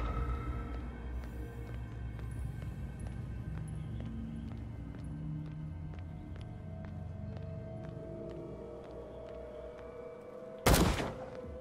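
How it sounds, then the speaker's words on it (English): Shots ring out in the horror video game Call of Cthulhu, a run of regularly spaced sharp cracks over a low rumbling backdrop, ending with a sudden loud burst near the close. "Wait, let's just, for the sake of argument, start shooting everyone."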